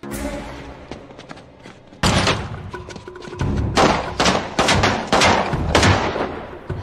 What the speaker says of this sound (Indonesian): Tak berselang lama, baku tembak pun terjadi.